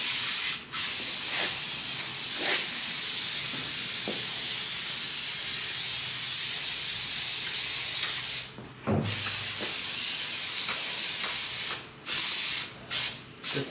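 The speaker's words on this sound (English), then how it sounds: "I don't spray the glue this way when I'm spraying it on here" Spray glue hisses steadily onto Jeep Cherokee headliner material in a near, continuous spray with only a few brief pauses.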